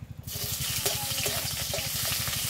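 Dried chillies and onions fry in hot mustard oil as cooking for a winter duck curry begins, giving a steady, close, watery crackle and hiss with a low rhythmic bubbling throughout and no talk.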